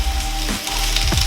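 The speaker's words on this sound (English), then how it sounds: "now I'm going to add my peppers, my big chunks of peppers, into my frying pan" Big chunks of peppers hit a hot frying pan for Mexican ranch eggs, giving a steady close sizzle and crackle with a brief stir near the middle.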